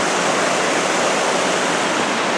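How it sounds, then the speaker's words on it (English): A small creek rushes steadily below a sturdy footbridge near Mt Rainier's Ohanapecosh River, a loud, dense, continuous wash of flowing water with no voices. "This is another little creek that empties into the Ohanapecosh way down below us"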